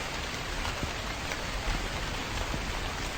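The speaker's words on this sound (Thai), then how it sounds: "ฝนก็ตกหนักมากเลย" Heavy rain falls in the horror video game The Convenience Store as a steady, dense hiss of drops that continues evenly throughout, with no voices.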